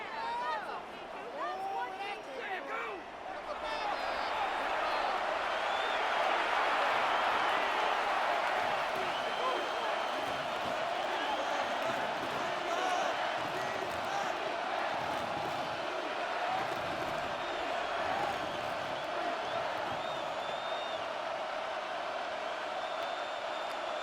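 Stadium crowd at an NFL game between the Colts and Jaguars roars continuously, a dense sustained cheer swelling and holding for the whole stretch, late in the game on a third down.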